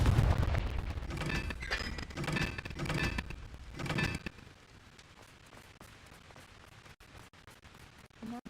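Blast of the Confringo fire spell in Hogwarts Legacy: a string of loud, booming bursts crowding the first four seconds, then a quieter tail of scattered crackles and thumps with a sharp hit at the end.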